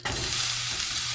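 Butter substitute sizzles steadily in a hot pan for a chicken curry, a dense, even crackle that starts abruptly and holds at a constant level with a low hum underneath.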